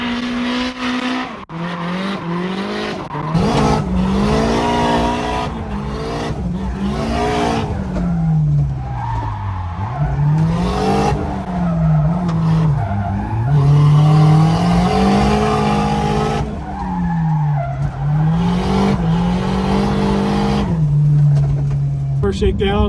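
A turbocharged AE86 drift car with a 3SGE Beams engine runs on track at a drift series shakedown: the engine revs and drops repeatedly, with tire squeal and skidding, loud and close throughout.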